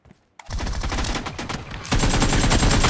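Gunfire from an AWM sniper rifle in the mobile battle royale game BGMI, a sudden loud blast after a brief quiet moment, followed by sustained dense shooting noise that intensifies near the end.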